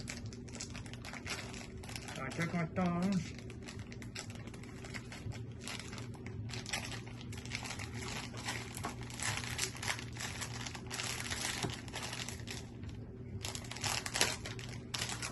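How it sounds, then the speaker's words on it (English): Plastic wrapping on a cheese slice package torn open by biting, a steady run of close crinkling and crackling lasting throughout, with someone speaking briefly over it, in a home kitchen while cooking a cheeseburger. "First off, I'm going to open up my cheese."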